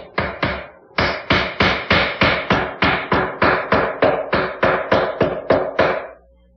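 A wedge is driven with glue into the split end of a Windsor chair spindle, about seventeen sharp hammer blows at a quick, even rhythm after one short pair, close and loud, with no voices.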